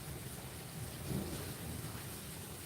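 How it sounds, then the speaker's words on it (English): Rain and thunder easing off, a soft steady patter with a brief low rumble in the middle, faint and with no one talking. "The rain is dying off a little bit."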